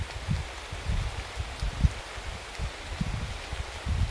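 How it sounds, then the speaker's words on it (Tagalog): Steady rain falling hard, with a continuous hiss and irregular low patters and thumps, no voices. "Yung mga idol, lumalakas yung ulan"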